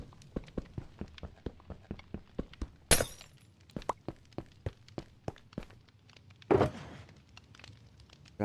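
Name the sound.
breaking blocks in Minecraft, from a video game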